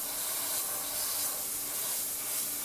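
Airbrush spraying paint onto a Takom Merkava Mk1 scale tank model, a soft continuous airy hiss holding steady throughout, fairly quiet and alone.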